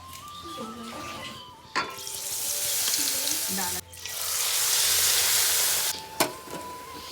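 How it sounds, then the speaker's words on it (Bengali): Eggplant slices coated in cornflour batter frying in hot oil give a loud, steady sizzle that surges twice, broken by brief sharp clatters of a utensil; a short spoken murmur opens the sequence. "এখন বাকি যে কর্নফ্লাওয়ারটা আছে এখানে কয়েকটা বেগুনি দিয়ে ভাজে নিব।"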